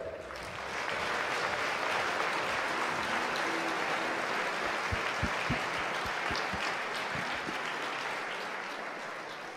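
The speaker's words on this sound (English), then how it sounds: "a big round of applause for our champions, our UK rookie champions." Audience applause for the UK rookie champions at the F1 in Schools national final at Silverstone: steady, dense clapping from a large crowd that holds throughout, with a few louder low thumps near the end.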